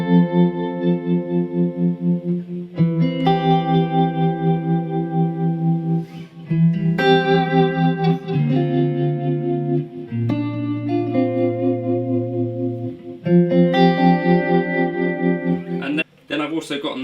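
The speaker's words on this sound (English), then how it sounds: "it's also relatively easy for me to set up things like time-based tremolos like this." Electric guitar run through a Fractal FM3 modeler with a time-based tremolo effect, chords pulsing in a steady rhythmic throb, sustained and fairly loud with brief pauses between phrases.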